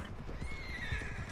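A horse being led into stables in a video game gives a long whinny over soft clip-clopping hooves, close and clear, with no speech.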